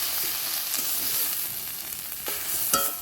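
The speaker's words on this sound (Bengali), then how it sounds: "দেব একটু মশলাটাকে কিছুক্ষণ কষিয়ে নেব" A paste of ground cumin, green chilli, ginger and turmeric sizzles gently in a pan as it is fried down, a soft continuous crackle with a few brief stirring scrapes toward the end.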